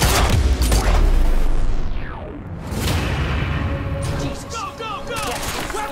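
Gunfire and explosive bursts in the shooter video game Quantum Break, loud and dense at first, then a whooshing sweep, continuing volleys and shouting voices.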